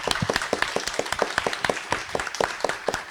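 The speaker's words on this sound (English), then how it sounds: "Give the panelists a round of applause." Audience applause for panelists closing a plant-based sessions panel discussion at CARE 2024: a steady patter of individual claps, moderately loud and fairly sparse, continuing evenly with no talk over it.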